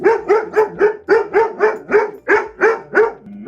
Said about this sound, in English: This is our school dog, Barrett.